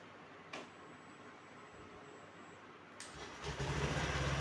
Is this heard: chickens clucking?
no